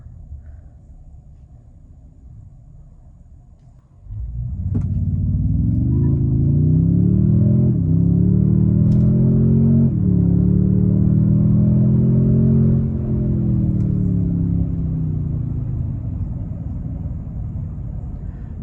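A 2024 Toyota Tundra TRD Pro launches from idle and accelerates hard from 0 to 60, the engine surging into a loud, deep, rising roar with brief dips at gear shifts, heard from inside the cabin.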